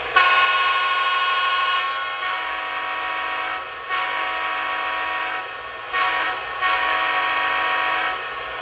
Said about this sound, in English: So I'll start with the horn.